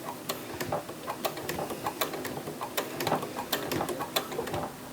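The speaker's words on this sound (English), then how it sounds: "and then I'm just going to sew forward" A sewing machine stitches forward along a bulky bag seam with a quick, steady run of light ticking clicks, close and fairly quiet, with no voice over it.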